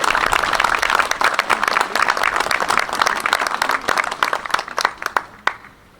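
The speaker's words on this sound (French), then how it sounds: "On n'applaudit pas la Marseillaise, mais les enfants." Outdoor applause from a crowd at a May 8 commemoration ceremony, given for children after they sing, with dense clapping that thins out and ends in a few last claps.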